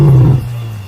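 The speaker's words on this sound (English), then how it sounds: "Even their roar had a deeper rumble just like the male lions." A lioness lets out a single deep, rumbling roar with a male-like low tone, loud and close, swelling at the start and fading into a low growl.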